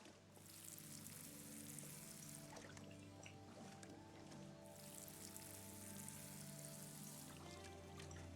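Water pours steadily from a watering can in the video game Nightingale, a faint, continuous splashing trickle with pulsing surges and a low tonal hum underneath.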